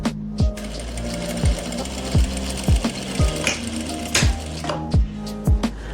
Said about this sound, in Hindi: सिलाई आपने सेंटर तक की लगानी है